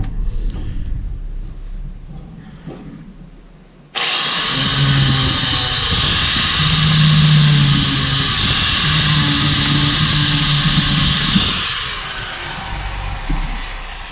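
A 4.5 inch angle grinder fitted with a chainsaw wheel grooves the tread of an old dirt bike tire, a loud steady whine that starts abruptly and runs continuously with rising and falling load.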